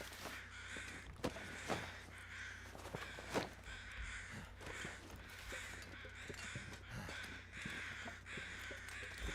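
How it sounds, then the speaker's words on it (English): Crows caw in the cold wilderness of the survival video game The Long Dark, a scatter of harsh repeated calls at a middle distance over a steady background hiss of wind. "I hear you, birds."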